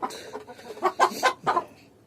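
Backyard chickens cluck close by in a short run of four or five throaty clucks, loud and alone with no talk over them.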